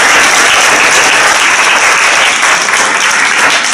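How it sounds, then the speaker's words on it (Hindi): Loud, close applause from an audience at a community Jayanti celebration, a dense continuous burst of many hands clapping at a steady level throughout. "एक बार ताली बजा दो"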